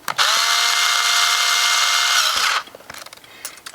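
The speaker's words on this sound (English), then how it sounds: "I don't want to torque these screws down." A power drill runs steadily for about two seconds, driving screws into foam inserts for a Class 1 scale RC crawler's tires, then stops abruptly, leaving faint handling clicks.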